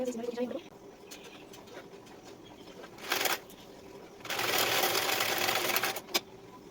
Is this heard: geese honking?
no